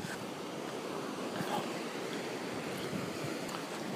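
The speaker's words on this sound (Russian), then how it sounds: "Волны бьются." Ocean waves break continuously on the shore at Alcala on Tenerife in the Canary Islands, a dense, steady roar of surf mixed with wind buffeting the microphone, loud and close with no speech.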